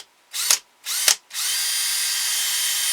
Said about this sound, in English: we're going to drill a hole for our screw.